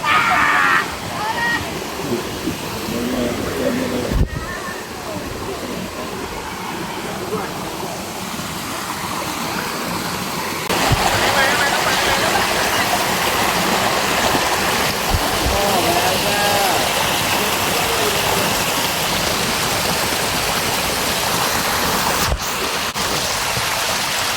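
Rushing water from a small jungle stream being crossed on a hike flows continuously close by, a steady churning wash with occasional louder surges and faint voices beneath.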